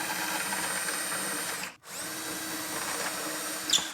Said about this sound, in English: then we're going to take a self-centering drill bit and we're going to drill those holes out